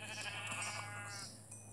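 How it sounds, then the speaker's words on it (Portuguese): A cow in the Minecraft game gives a single drawn-out, nasal moo lasting about a second, fairly close and clear over a steady low hum, with no talking. "Tá aquela vaca ali, ó."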